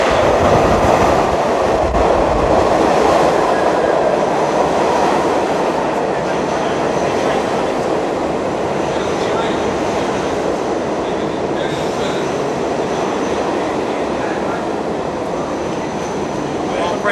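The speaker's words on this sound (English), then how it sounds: "the subway train about to come" A subway train rumbles loudly and continuously along a New York platform near the Barclays Center, with wheel noise and a broad roar filling the whole stretch.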